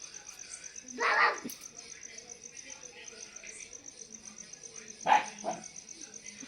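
A dog barks in two brief bursts, far off and moderately loud, over a steady outdoor chorus of crickets and insects.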